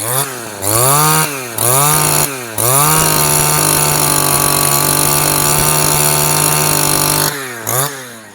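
Two-stroke backpack brush cutter with auto-lube oil mixing, revved in repeated blips from idle, then held at high RPM as a loud, steady near whine before dropping back to idle and blipping again.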